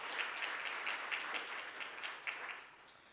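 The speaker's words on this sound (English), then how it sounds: "So a quick round of applause for all the campaigners in the world who do good work in this area." Brief round of applause from a seminar audience on race equality, soft and somewhat distant, a textured patter of clapping hands that swells and fades over a few seconds.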